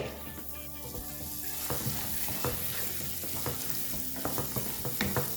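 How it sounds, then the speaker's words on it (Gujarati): Soaked moth beans are stirred in a pan, producing continuous close scraping and clattering with a soft sizzling bed underneath and no talking. "હવે આપણે આગળ એમાં એક કપ પલાળેલા મઠ લઈએ છે મિક્સ કરી લઈએ"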